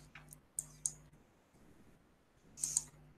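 A computer mouse gives a few crisp, quiet clicks, two close together, then a pause and another pair, in a silent room while working in modeling software.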